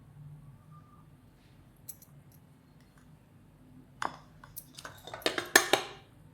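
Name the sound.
mixing nankhatai dough in a bowl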